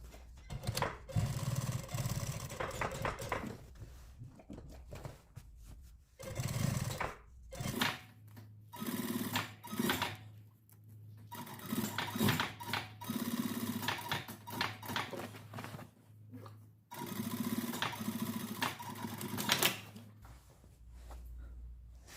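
A sewing machine topstitches two rows along a denim jacket collar in bursts of rapid, rattling stitching that start and stop, with a low steady motor hum between runs.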